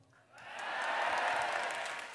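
Audience applause for two rap battle finalists at a freestyle rap event, swelling up after a brief pause into a broad, sustained wash of clapping that holds steady and then eases slightly, with no voices over it.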